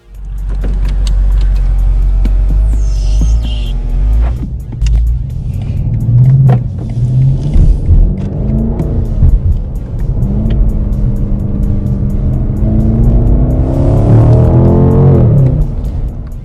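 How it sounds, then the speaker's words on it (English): A BMW M850i xDrive with its V8 engine drives on the road, the engine note rising and falling loudly through gear changes and acceleration, with a steady low rumble throughout and no talk. "what's next left for us to do is to experience that V8 on the road"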